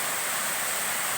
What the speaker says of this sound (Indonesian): Inilah suasana air terjun yang ada di kampungnya di Rusun Sumatera Barat.